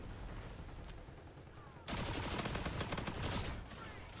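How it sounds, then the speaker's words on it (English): Rapid automatic gunfire from a weapon in the video game Call of Duty: Infinite Warfare, a dense, loud burst that starts abruptly midway and continues steadily over game background noise. "Love the way this gun sounds."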